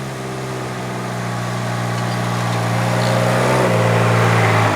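Kubota RTV1100C utility vehicle engine laboring up a hill in low gear, a steady droning hum that grows slightly louder and shifts pitch near the end as the pedal is feathered.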